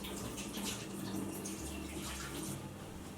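Water pours steadily from a watering can or tap onto a potted houseplant during repotting, a continuous splashing rush that stays even and fairly close for the whole stretch.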